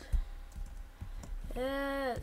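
Quick keystrokes tapped on a computer keyboard in a few short bursts, close and fairly clear, before a sustained tonal sound takes over the last half second.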